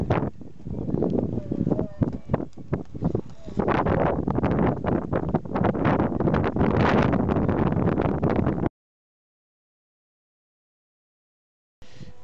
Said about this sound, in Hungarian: Nagyon megerősödött a szél.